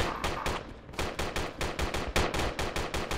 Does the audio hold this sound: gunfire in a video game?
yes